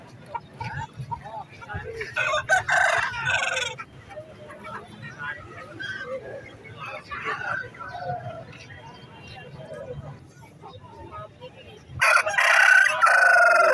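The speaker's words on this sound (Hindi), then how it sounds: "दोस्तों यहाँ पर जो है एक बहुत ही माशाल्लाह ज़बरदस्त रोस्टर मौजूद है।" At an outdoor rooster market, an aseel rooster crows clearly near the end, over general crowd noise and talk. Faint clucks and other bird sounds come from around the market.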